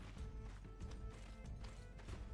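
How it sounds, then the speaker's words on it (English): Horse hooves in the video game Mount & Blade: Warband during a battle, rapid clip-clop thuds repeating over a dense, rumbling game background. "Janice Lyron, I need your horse, brother."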